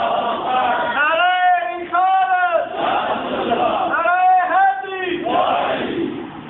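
A large crowd at a religious gathering chanting a slogan in unison, loud rhythmic bursts of many voices answering a leader's call, repeated several times close by.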